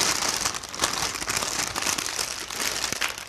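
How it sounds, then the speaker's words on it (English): Several sheets of baking paper are folded over with a double fold for wrapping a slow-roast turkey, giving a continuous close crinkling and rustling with a few sharper crackles. "Take the paper and fold it with a double fold."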